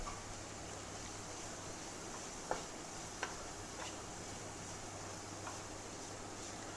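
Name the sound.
stir-frying green beans and grated carrot in a pan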